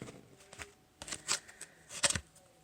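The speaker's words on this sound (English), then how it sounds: "Cut the deck here." A tarot card deck is cut and handled: a few quiet, brief papery riffling and slapping bursts separated by short pauses, close by.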